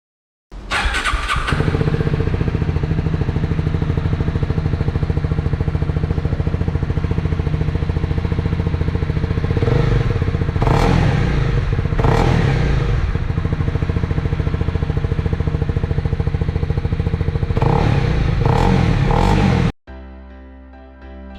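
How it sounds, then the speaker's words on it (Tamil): A Honda CB300R motorcycle fires up and idles with a deep, steady exhaust burble, blipped a few times into sharper revs before the engine cuts off abruptly near the end. "இப்போ நம்ம இந்த ஹோண்டா CB300Rோட எக்ஸாஸ்ட் நோட் எப்படி இருக்குன்னு பார்ப்போம்"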